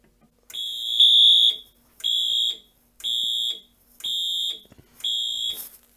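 A Simplex 4010 fire alarm panel sounds during a walk test, giving one long electronic horn blast followed by four shorter evenly spaced pulses, loud and close with no talking.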